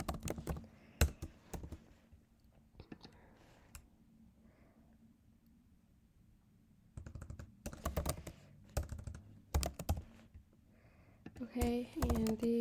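JavaScript code is typed on a computer keyboard in close, quiet bursts of crisp key clicks separated by pauses, ending with a voice that speaks over the typing.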